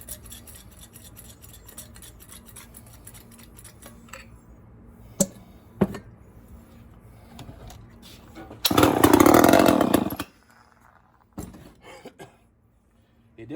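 After fuel is poured into its carburetor, a Homelite XL-12 chainsaw engine fires in one loud burst of about a second and a half, then dies. Scattered clicks and knocks come before it.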